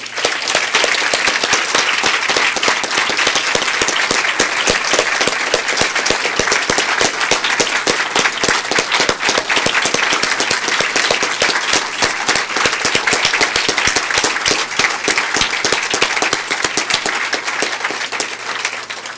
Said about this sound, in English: To all of our inductees, let's give them a big round of applause.